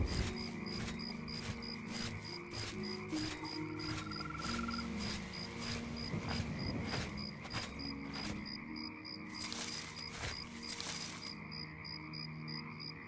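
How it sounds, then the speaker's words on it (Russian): Night ambience in the swamp area of The Elder Scrolls IV: Oblivion, near the heroes' graveyard: steady insect chirring with low croaking frogs running continuously under a layered game background. "Как будто лягушки квакают еще там на фоне. Сверчки-то понятно, а вот такой кря-кря-кря, как будто по болотам хожу."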